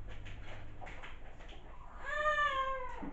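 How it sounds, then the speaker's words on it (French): Cats meow indoors, a faint, rising meow closing a stretch of quiet room noise with soft rustling. "les chats"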